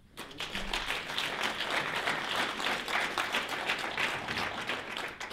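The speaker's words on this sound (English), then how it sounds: "We need to give an applause for that." A crowd at an event honoring WW2 veterans claps steadily for several seconds, a dense, even wash of applause with no talk over it.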